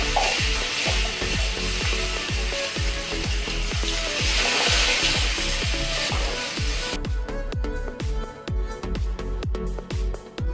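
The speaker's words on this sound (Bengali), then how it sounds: "জিরে গুঁড়ো দিয়ে অল্প জল দিয়ে মশলাটাকে ভালো করে কষে নেব" Spice paste with cumin powder and a splash of water is stirred and sautéed in a pan for a jackfruit seed curry, steady sizzling with rhythmic scraping strokes of a spoon, close and continuous.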